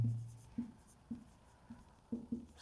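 A pen writes notes in short, quiet strokes, with about six soft scratches spaced unevenly over a couple of seconds and no voice.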